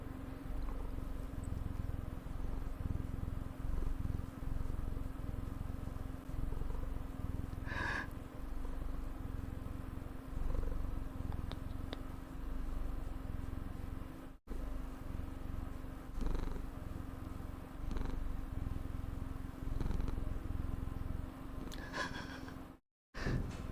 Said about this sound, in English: It's purring so loud.